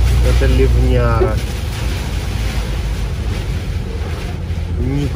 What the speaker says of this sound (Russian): Это ливняра.